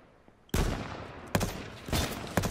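Bursts of gunfire in the online shooter game H1Z1: three loud, close blasts of rapid fire with brief gaps between them, and no talk.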